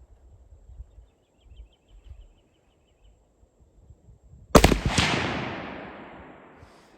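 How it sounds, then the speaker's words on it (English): A Swedish M96 rifle fires a single shot at a shooting range: a sharp, loud crack after several seconds of near quiet, followed by a long fading echo. "So let's shoot the M96."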